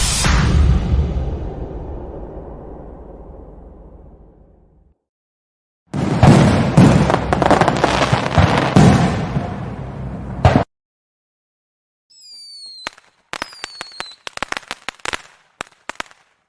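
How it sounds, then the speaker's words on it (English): A fireworks sound effect used for magic missiles in a tabletop game: a loud fading boom, then a dense burst of crackling pops, a pause, and a closing run of whistling rockets and sharp bangs, with no voices. "There's gonna come a time when I have to have a longer fireworks thing to account for all the magic missiles"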